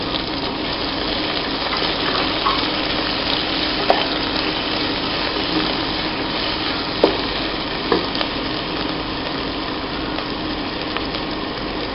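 Long-sliced onion fries in a hot pan for Kerala-style chicken thoran, giving a steady, even sizzle with a few soft clinks of a stirring spoon.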